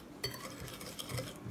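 A whole egg is whisked in a bowl for a lemon tart, giving quiet, rapid clicking and scraping strokes of a whisk against the bowl, close and faint.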